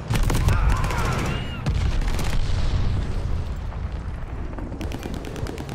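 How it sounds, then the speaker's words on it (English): Booming explosions and rapid gunfire fill a Call of Duty: Vanguard match as a glide bomb strikes, with a loud dense crash near the start and sustained rumbling, crackling fire continuing throughout. "Enemy's got a glide bomb incoming"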